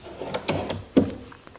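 A file drawer on metal drawer slides of a handmade oak computer desk glides and clunks, with several close sliding rumbles and knocks and no talking.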